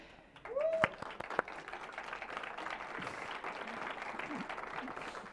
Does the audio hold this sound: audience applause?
yes